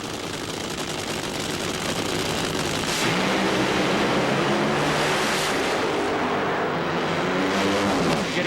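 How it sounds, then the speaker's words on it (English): A nitro-burning Top Fuel drag racing car smokes its tires at the 1999 NHRA Pontiac Nationals in Columbus, giving a loud, continuous engine roar with broadband tire noise that swells partway through and holds steady to the end. "right up against the wall was Frank Pedregon, smoking the tires."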